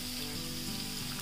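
Long-cut chopped onion sizzles steadily in a hot kadhai with a constant, bright, hissing crackle, close and uninterrupted.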